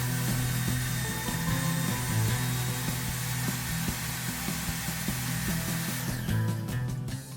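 A table saw whines steadily while cutting wood for a DIY game table base, with a loud continuous motor hum and a shift in tone near the end as the cut finishes.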